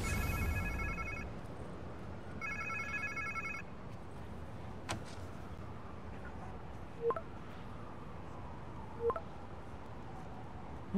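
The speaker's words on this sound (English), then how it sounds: "Sounds like somebody's phone" A phone in Spider-Man 2 rings twice in short electronic trills over a steady background hum, followed by a few faint clicks and ticks.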